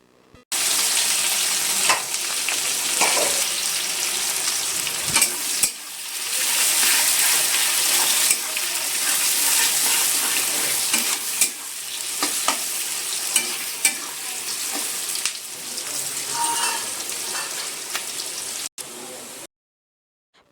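Onions with whole spices and bay leaf sizzle and fry steadily in a pan, with a continuous hiss, intermittent stirring scrapes and a voice speaking over it near the end.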